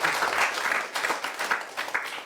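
Audience applause during a talk on healthy living, a mid-sized crowd clapping in uneven bursts that rise and dip, fairly close and moderately loud.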